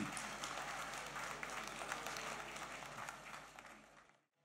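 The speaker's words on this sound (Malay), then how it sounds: "tepukan gemuruh untuk Orkestra Sekolah Seri Puteri" An audience applauds the Seri Puteri School Orchestra at a Selangor Teachers' Day 2014 ceremony, a dense, steady wash of many hands clapping that holds for several seconds before cutting off abruptly.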